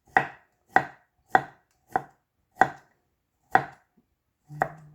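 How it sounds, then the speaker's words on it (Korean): A knife slices through chestnuts on a cutting board in seven sharp, evenly spaced chops, each a crisp knock against the board, close and clear against silence. "이렇게 썰어줍니다."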